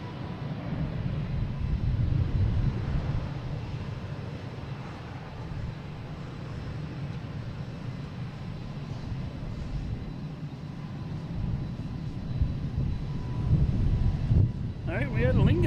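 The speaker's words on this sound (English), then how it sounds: "We have American coming in here in A319 from Philly." An American Airlines A319 jet from Philadelphia arrives at Boston Logan International Airport. A broad, low roar rises and fades over the open airfield, and voices talk over it.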